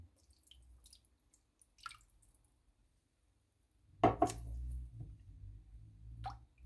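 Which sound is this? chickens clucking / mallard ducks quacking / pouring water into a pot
pouring water into a pot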